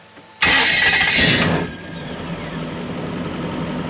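A 1UZ V8 sterndrive boat engine cranks and fires with a loud, close roar and a brief rev, then drops into a steady rumbling idle.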